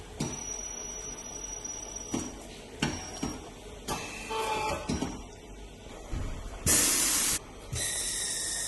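Compressed air is fed into a MAN Euro 6 intercooler during a pressure leak test, giving sharp hissing bursts and clicks, then a loud sustained blast of air followed by another hiss.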